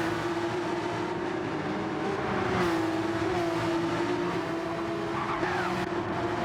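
A Porsche Cup race car at Road Atlanta works through the chicane, its engine holding a steady droning note with a slight pitch dip and recovery, loud and continuous with no voices.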